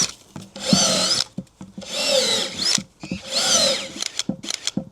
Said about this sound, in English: So I start by making holes in this. You just keep on